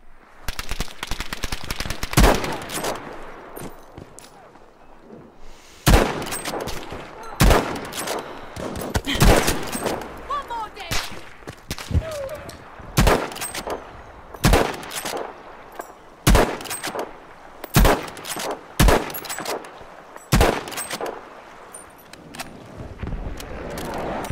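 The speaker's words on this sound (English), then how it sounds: "Now the LEE-ENFIELD number 4 Mark 1, there are a lot of variations of the LEE-ENFIELD, and it's a classic weapon" Lee-Enfield No. 4 Mk 1 bolt-action rifle fired in a World War II video game: a series of loud, sharp single shots spaced a second or two apart, each with a short echoing tail, with no talking.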